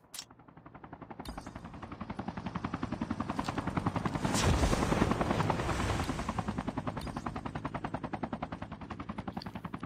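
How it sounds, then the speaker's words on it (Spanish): Helicopters in the Call of Duty Mobile video game; a loud, steady rotor chop pulses throughout, swelling nearer mid-way, mixed with bursts of machine-gun fire. "Hay helicópteros también."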